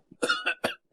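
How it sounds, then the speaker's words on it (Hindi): A short burst of three or four sharp coughs in quick succession, close and moderately loud, with a faint catch of breath before them. "आ रही है ना खांसी आपको?"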